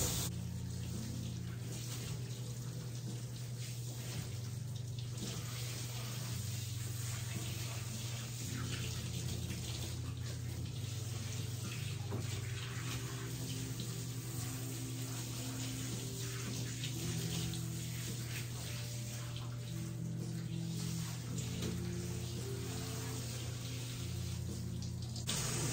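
Running water pours steadily over a Shih Tzu being rinsed during grooming, a continuous even splashing and flowing hiss that stays close and unbroken throughout, with no talking.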